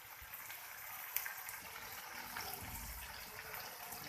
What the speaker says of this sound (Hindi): अब इसको अच्छी तरह से भून लेंगे जब तक इसका ऑयल ऊपर ना आए।